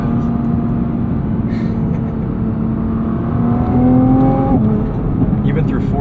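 A 2023 Nissan GT-R with a 565 hp engine accelerates: a steady, loud engine drone climbs in pitch, then dips at a gear change, heard from inside the cabin.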